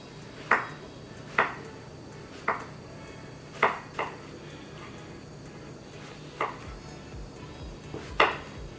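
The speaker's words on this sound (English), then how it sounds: "I'm going to cut this into slices as well." A knife slices zucchini on a cutting board, giving about eight separate, fairly sharp knocks spaced roughly a second apart over a low, steady background hum.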